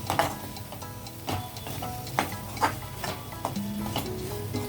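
Cauliflower fry with masala powder being stirred in a pan: a soft continuous sizzle broken by several scraping strokes and spoon knocks against the metal, close and fairly loud.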